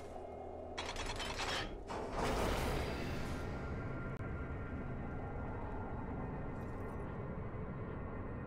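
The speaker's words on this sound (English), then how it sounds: "The elevator ride." An elevator mechanism runs in the video game Darksiders Warmastered: a loud whooshing, grinding start gives way to a steady mechanical rumble and rattle that hums on through the ride with no speech.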